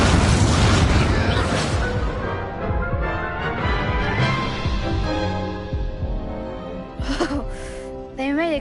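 Incendio fire spell blasts in the Hogwarts Legacy video game: loud booming bursts of fiery energy over game music, with short crackling hits near the end.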